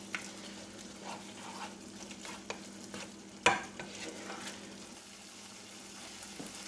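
Bacon jam slow-simmers in a pan, a quiet bubbling fry punctuated by scattered scraping stirs and one sharper clack midway.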